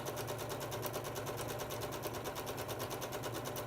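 A sewing machine runs steadily while stitching two halves of a Flying Goose quilt block together, giving a continuous, even mechanical whir with a rapid needle rhythm throughout.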